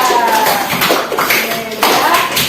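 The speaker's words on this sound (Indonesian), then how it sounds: "Tepuk tangan untuk kelompok kita." Classroom students clap for their group in an Indonesian lesson, a loud, close burst of uneven clapping with a few sharp taps, voices faintly mixed in.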